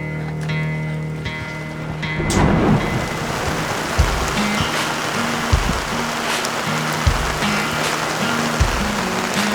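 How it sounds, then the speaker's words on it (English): Thunderstorm with steady heavy rain pouring outdoors, a loud thunder crack breaking in near the start, then dense continuous rain hiss with rumbles and occasional thumps. "The rain is coming."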